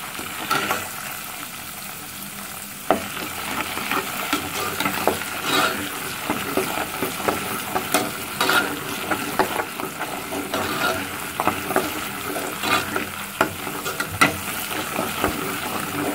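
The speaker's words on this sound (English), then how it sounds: "So I want it to fry very well before adding the fresh" Tomato paste frying in hot oil in a Nigerian home kitchen, a steady close sizzle with scattered crackles and occasional stirring scrapes running throughout, no talking.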